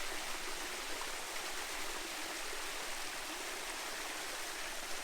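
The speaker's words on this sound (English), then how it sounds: "waterfall in the background" A waterfall on the Smith Trail in Far North Queensland, Australia, roars in a steady, dense rush of falling water, constant and even throughout with no voices.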